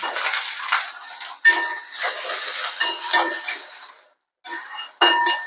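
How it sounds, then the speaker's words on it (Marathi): Cut potatoes tipped into a pan of onions in oil, scraping and clinking of a metal spoon against the pan in irregular bursts, with a short pause before a final few sharp clinks. "यामध्ये आपण जो कापून घेतलेला बटाटा आहे तो आपल्याला घालायचा आहे."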